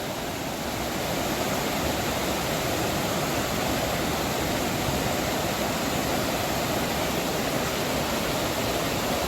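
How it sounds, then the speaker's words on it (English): Whitewater rapids on the Scantic River in Connecticut rush in a dense, unbroken roar of churning water, loud and steady throughout with no voices. "But this is whitewater."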